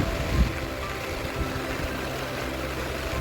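A strong stream flows steadily beside the Kanjiraveli hanging bridge, giving a continuous broad rushing wash of water that stays close and fairly loud throughout, with no voices over it.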